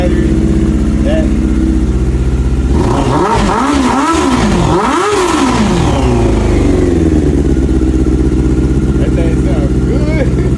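A Honda CBR600 F3 motorcycle engine idles loudly up close, then blips through a couple of sharp revs that rise and fall before it settles back to a steady idle.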